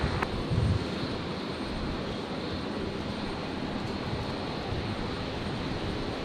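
Qantas flight 629 airliner departing on its takeoff run at Brisbane airport, a steady broadband engine roar held at an even level throughout, heard from a distance with no voices.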